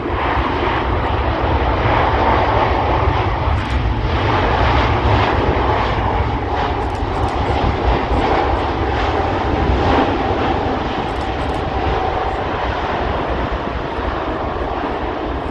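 Airbus A380 landing at Manchester Airport with reverse thrust on only its two inboard engines, a loud, steady broadband engine roar that holds nearly constant throughout without talk.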